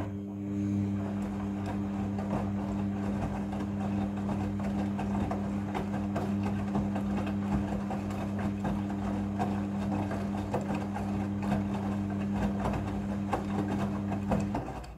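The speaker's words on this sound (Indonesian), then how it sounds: "Pada proses pembilasan dengan air, mesin cuci akan mengatur jumlah kebutuhan air secara otomatis." A Midea front-loading washing machine hums steadily through its water rinse cycle, a constant motor drone with faint sloshing and whirring, fairly quiet and unbroken, with no voices.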